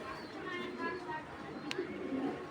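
Racing pigeons coo softly in a loft, with low, murmuring calls beneath someone talking nearby and a brief chirp in the middle.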